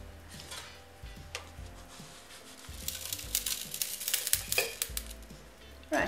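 A cake scraper scrapes excess sprinkles off a buttercream-coated cake, making close, gritty scratching strokes with light ticks and rattles of sprinkles that swell into a busier burst near the middle, with no talk.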